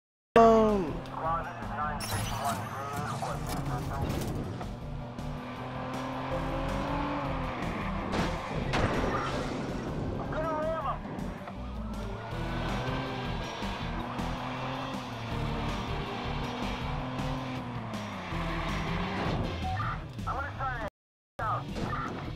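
A car is driven hard through the streets in Watch Dogs, with a revving engine, swooping pitch changes and squealing tires, loud and continuous, with a brief cut near the end.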